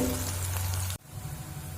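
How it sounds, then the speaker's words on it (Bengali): Onions frying in a pan over a medium flame, a close, dense sizzle that cuts off abruptly midway and drops to a quieter, softer bubbling hiss. "দেখুন পেঁয়াজটা হাফ ভেজে নিয়েছি"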